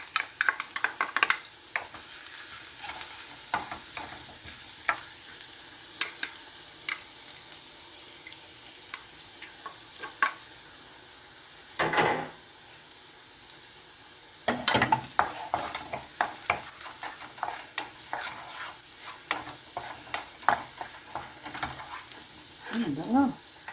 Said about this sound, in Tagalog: stir fry kangkong with oyster sauce and garlic